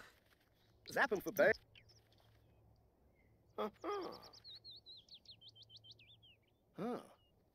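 Small birds in The Sims 4 farm setting give short chirps and a rising twittering trill, heard in brief separate bursts against a quiet background.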